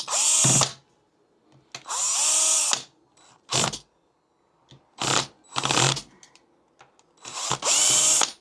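Power driver unscrewing six screws from a Dremel rotary tool housing, with several short close whirring bursts separated by quiet gaps and small handling clicks.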